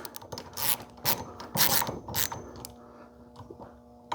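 A socket wrench ratchets in short bursts while tightening 13 mm locking nuts onto a metal bar during a garage ceiling storage rack installation, with quick clicking runs separated by brief pauses, close and fairly quiet.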